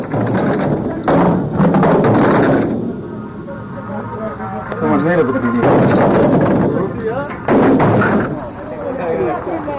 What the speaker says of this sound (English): They're clearing Iraqi anti-tank mines, immensely powerful explosives.